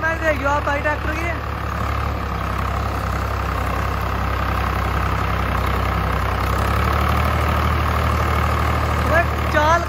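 Old Swaraj tractor engine running in second gear, a steady low diesel drone that stays loud throughout, with faint chirpy tones over it early and near the end.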